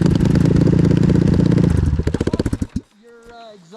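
A loud snowmobile engine with its exhaust off runs roughly, its rapid firing slowing into sputtering pops before cutting out, followed by a brief voice.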